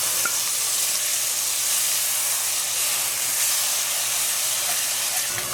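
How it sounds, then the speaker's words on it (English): Tomato added to hot ghee or butter in a pan for chicken tikka masala, giving a steady, loud, broadband sizzle and hiss that holds evenly throughout with no talking. "Fry it up in the ghee or the butter. And then in goes the tomato."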